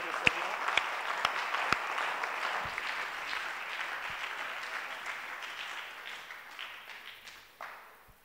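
A church congregation bursts into sustained, dense applause that fills the room, with a few sharp claps standing out at the start, then gradually tapering toward the end, with voices mixed in beneath.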